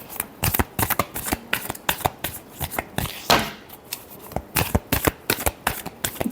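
Tarot cards being shuffled in a quick series of crisp riffling flicks and soft slaps, close and fairly loud, with a brief fuller riffle burst midway and no talking.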